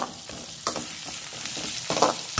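Garlic and small onions frying in plenty of oil, a close crackling sizzle with scraping stir strokes and soft clatters at intervals, without speech.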